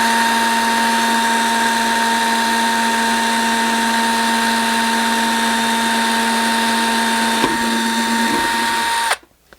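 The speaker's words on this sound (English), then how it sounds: "we're going to drill very slowly through the wood." A power drill with a 1/8 inch bit runs steadily at a constant pitch while boring slowly through wood during a floating-shelf install, then cuts off abruptly near the end.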